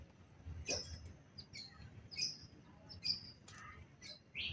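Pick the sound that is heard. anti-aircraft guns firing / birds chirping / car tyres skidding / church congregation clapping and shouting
birds chirping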